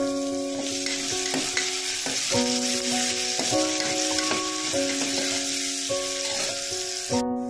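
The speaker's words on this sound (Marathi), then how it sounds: "आणि तेलावर कांदा सोडूया। कांदा परतवून घेऊया।" Onion frying in oil in a pan for chole, a continuous close sizzle with steady scraping stirs, while melodic background music plays underneath.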